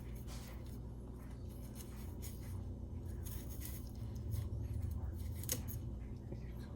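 A knife carves into a soft baked apple, giving faint, close scraping and slicing strokes in short bursts against a quiet background.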